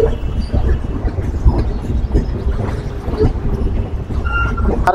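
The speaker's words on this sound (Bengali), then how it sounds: "আর খুব সুন্দর একটা কার্ভ নিয়ে নিল আমাদের আন্তনগর রূপসী বাংলা এক্সপ্রেস।" Ruposhi Bangla Express, an intercity train in Bangladesh on the Dhaka to Benapole route, rumbles loudly on the rails as it rounds a curve, with continuous low roar and faint wheel clatter and squeal near the end.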